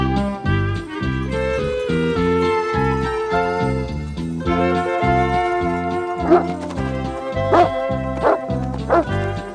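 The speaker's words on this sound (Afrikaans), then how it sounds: "Ja, maar die hond bly net daar waar hy is." A dog in the animated series Heidi barks repeatedly in short yaps and whimpers over steady background music, fairly loud and close.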